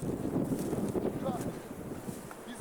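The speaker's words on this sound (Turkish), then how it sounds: "Bayağı rüzgarlı yalnız." Strong wind buffets the microphone outdoors near a village hilltop fortress area, a rough, gusty low rumble that swells and eases throughout, with people talking underneath.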